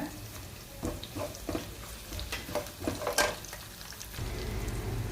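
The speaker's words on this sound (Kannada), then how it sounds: "ಕರಿಬೇವಿನ ಸೊಪ್ಪು ಹಾಕೋಣ" Curry leaves crackle and sizzle in hot tempering oil for a South Indian gooseberry rice dish, scattered sharp pops over a steady frying hiss, with a brief stirring scrape, close and moderately loud.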